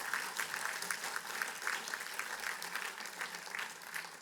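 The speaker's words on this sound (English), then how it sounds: "Give her a big round of applause." Audience applause at a fellows induction ceremony for a national anthem singer, a brisk, even patter of many hands clapping continuously throughout.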